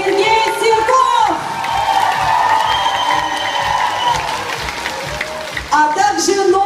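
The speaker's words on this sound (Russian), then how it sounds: "давайте еще раз бурными аплодисментами отблагодарим нашего гостя" Applause and cheering from a concert audience for a guest singer who performed a song at an event in Leninsky District, Crimea. It is a loud, continuous crowd roar with clapping and whoops that runs the whole stretch.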